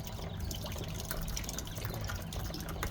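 A garden hose sprays water to rinse a part from a tankless water heater, a steady, close, splashing rush that runs unbroken throughout.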